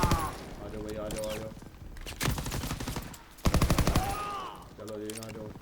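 Gunfire in the World War II shooter game Call of Duty WWII, with bursts of rapid automatic shots alternating with single loud reports, mixed under in-game voices and music throughout.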